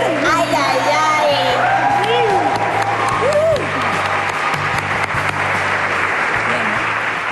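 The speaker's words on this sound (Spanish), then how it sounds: "Por favor, un cálido aplauso a los novios de su primera fiesta como marido y mujer." Wedding guests applaud the newlyweds at their first party as husband and wife, a loud, continuous crowd clapping under a voice, with music and scattered voices mixed in.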